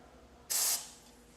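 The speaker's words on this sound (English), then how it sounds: "I'm going to spray a little bit extra on my" Dry lube sprayed onto gun rails during basic cleaning: one short, loud aerosol hiss lasting about a quarter second, close up, alone in a quiet room.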